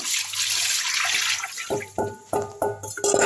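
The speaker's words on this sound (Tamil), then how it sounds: "அடுத்து இன்னும் ஒரு ஒரு தண்ணியில் கழுவிடலாம்" Dried anchovies are washed in a bowl of water: a steady wash of swishing, splashing water gives way to a run of sharper, ringing knocks and sloshes from the bowl, close up with no talk.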